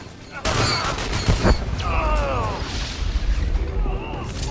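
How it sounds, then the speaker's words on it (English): Gunfire and a sticky bomb explosion in SWTOR: sharp bursts of blaster shots and a booming blast ring out through a busy battle, with overlapping voices of combatants over the din. "I'm just gonna shoot stuff. Sticky bomb."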